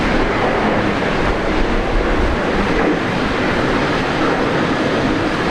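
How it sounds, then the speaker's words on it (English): A Qantas airliner in retro livery takes off at Brisbane Airport, a loud, steady broadband engine roar filling the whole stretch without letup and no voices over it. "We've got Qantas retro livery taking off."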